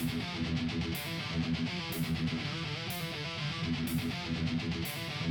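Dark, heavy AI-generated metal thunders along with overdriven guitar, a dense low-end bass line and crashing cymbals at regular intervals, loud and continuous with no voices.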